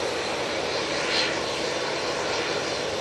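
A departing aircraft at Manchester Airport gives a steady, loud broadband engine roar that swells slightly and then holds, with no voices.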